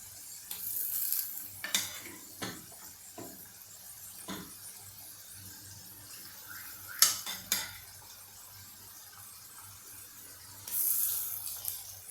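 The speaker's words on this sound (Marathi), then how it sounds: "आता आपण याच्यामध्ये सुरणाच्या पोडी टाकणार आहोत" Pieces of elephant foot yam tipped into a pan of sautéed masala: a series of sharp clatters and scrapes of metal on metal, with quieter stirring between them, ending in a burst of noisier rattling.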